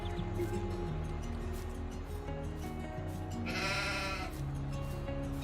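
Sheep in the video game Farming Simulator 22 bleat over a constant low game ambience and hum; one clear, wavering bleat stands out near the middle, with other faint animal calls mixed into the steady background.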